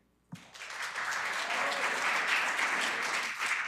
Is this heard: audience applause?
yes